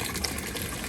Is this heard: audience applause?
no